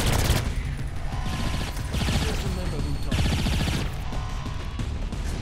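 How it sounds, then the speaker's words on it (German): Gunfire from the video game Saints Row 4 comes as loud, dense bursts of rapid shots and crashing impacts that fill the whole stretch, with a voice talking over it. "Schieß auf die Füße."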